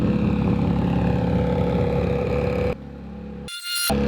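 A boosted race car engine on a track roars loudly in a sustained buzzing drone, then cuts sharply to near silence before a brief harsh burst of noise.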